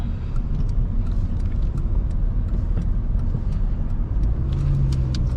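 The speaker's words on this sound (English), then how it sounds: "Right, okay, we're in 1st gear." A Honda Civic EP2 engine drones steadily while driving, a close, continuous low rumble with road and cabin noise and a brief rise in pitch near the end.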